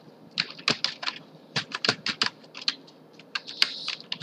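Rapid, uneven keystrokes on a computer keyboard, close and clear, with short bursts and pauses while entering text on a voter card print portal.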